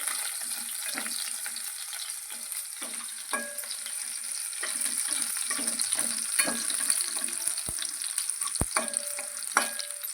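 Garlic for a tempering crackles and sizzles in hot oil while cooking chighal bhaji, a bright continuous frying hiss with soft stirring scrapes and a couple of sharp metallic clicks, close by and without speech.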